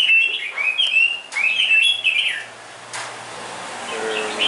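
A caged songbird gives quick, high twittering phrases, loud and near at first. The song then drops to fainter, scattered chirps, with a low hum beneath.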